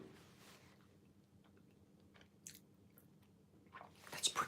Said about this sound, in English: So, actually, there was a nice crunch to it.